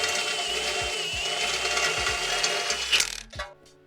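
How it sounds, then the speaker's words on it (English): A ratchet clicks rapidly and repeatedly in quick strokes, close up, as an exhaust bolt on a Toyota MR2 is worked loose, ending with a couple of metallic clunks. "then we can take the bolts out a bit more easily"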